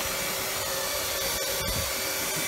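An Oase PondoVac pond vacuum runs steadily while cleaning a garden pond strewn with leaves, giving a constant loud motor whine and rushing suction noise with a few brief crackles and no talking.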